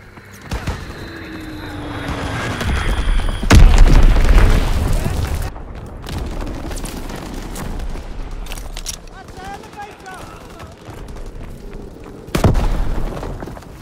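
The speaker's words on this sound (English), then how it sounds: "Enemy bomb incoming." Enemy bomb explosions in Call of Duty WWII: a loud, deep blast rolls out mid-clip and another heavy boom hits near the end, amid scattered gunfire and a game announcer's voice.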